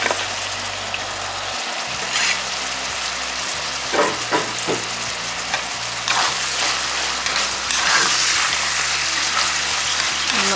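Ground beef and onions fry in a pan with a loud, close sizzle, broken by spatula scrapes and stirring clatter, with no voices.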